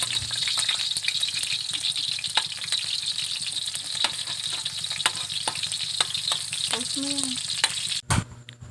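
Garlic and onion sauté in hot oil, a steady dense sizzle with scattered scraping clicks of stirring, close and continuous before a brief clunk near the end.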